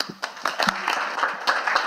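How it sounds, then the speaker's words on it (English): A small audience at a zero-knowledge technology summit gives a round of applause, a modest uneven patter of clapping hands with a few louder claps, nearby and brief, with no speech. "give a round of applause for Lucas"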